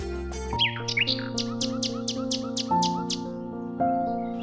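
Cartoon forest ambience with birds chirping in repeated quick tweets over a bright sustained musical backdrop, the calls evenly spaced and fairly close, no talking.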